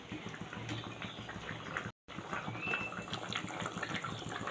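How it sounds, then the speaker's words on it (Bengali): Chicken curry with drumsticks and potatoes bubbles steadily in a pot, a continuous close simmering and gurgling that drops out for a moment, with no voices. "এবারে আরও 2-4 মিনিট আমি ফুটিয়ে নেবো ডাঁটাগুলো সিদ্ধ হওয়া তক্ক।"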